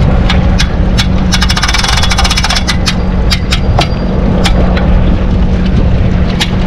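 A jet ski engine idles steadily and loudly up close on a river, with sharp clicks and ticks scattered over the low, constant rumble.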